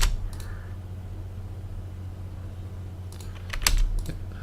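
Keyboard typing of AutoCAD commands while drawing a Porsche 911, with a few scattered keystrokes at the start, a low fan hum throughout, and a burst of quick clacks near the end.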